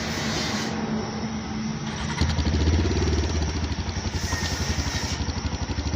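A motorcycle engine catches after a brief start attempt and settles into a close, loud, rhythmic idle with a steady chuffing beat.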